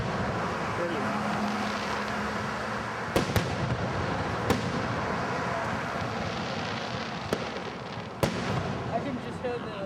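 Fourth of July fireworks in Gatlinburg roar as a dense, continuous rumble of bursts and crackle, with several sharp, louder bangs standing out; a crowd murmurs beneath.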